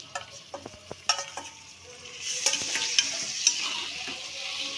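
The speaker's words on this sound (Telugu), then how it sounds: "నేను శుభ్రం చేసుకున్న మటన్ ఇందులో వేసుకుంటున్నాను." Cleaned mutton pieces are dropped into a pan of frying onions, with a few knocks and scrapes of stirring followed by a rising, steady sizzle that stays loud and close with no talking.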